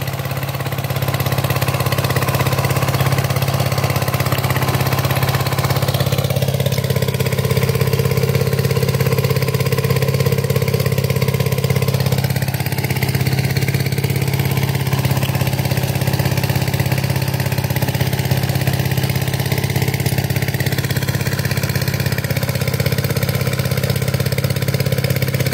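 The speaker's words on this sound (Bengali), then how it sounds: "মেশিন কেবল স্টার্ট দেওয়া হয়েছে, ওখানে সেলো মেশিন" A shallow-well water pump engine runs steadily just after being started, a loud close, even drone with a strong low hum that holds without pause throughout.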